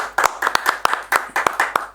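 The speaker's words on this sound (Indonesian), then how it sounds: "Tepuk tangan tuh" A short burst of hand clapping, a handful of sharp irregular claps over about two seconds, fairly close and with no talking.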